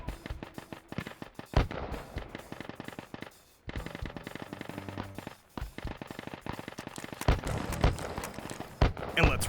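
A minigun fires in rapid sustained bursts in the VR shooter H3VR, a dense stream of sharp cracks that runs in long strings broken by short pauses, loud and near.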